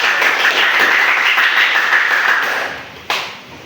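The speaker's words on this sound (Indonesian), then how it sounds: "Betul, tepuk tangan." A classroom of students claps together, a dense burst of hand claps that holds steady for a few seconds, then thins out and fades, with one last sharp clap near the end.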